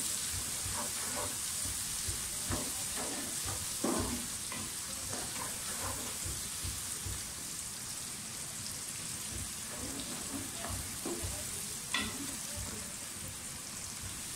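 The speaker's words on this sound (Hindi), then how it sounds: "प्याज को रेड कर लें, यानी कि पिंक पिंक कर लें, ब्राउन जो हम जिस तरह करते हैं" Onions frying in oil for an aloo mutter pulao, a dense continuous sizzle close up with repeated scraping strokes of a spoon stirring through the pan, no voices.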